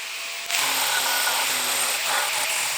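A power tool, likely a grinder or drill with an abrasive attachment, spins up sharply and whines steadily while stripping paint to bare metal on a 220,000 km BMW E46 330i body, loud and close.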